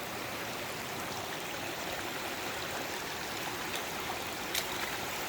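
Rainwater stream running high on a saturated ranch after a downpour, a steady broadband rush and gurgle of flowing water close by, constant and even throughout with no voices, only a faint click or two over the flow.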